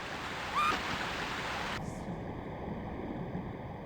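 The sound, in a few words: rushing water in Tomb Raider II video game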